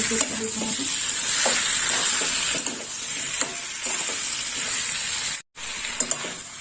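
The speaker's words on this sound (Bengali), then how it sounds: "এবার আর একটু কষিয়ে নেব পোস্ত বাটা দিয়ে" Poppy seed paste (posto bata) sautéing in a pan for a quick vegetarian curry makes a continuous close sizzle with intermittent stirring scrapes and a brief dropout near the end.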